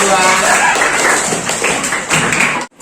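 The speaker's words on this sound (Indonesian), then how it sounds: "Tepuk tangan untuk kelompok" Classroom group at an Indonesian institute clapping for a presenting student group, a dense burst of hand claps under a speaking voice that stops abruptly at the end.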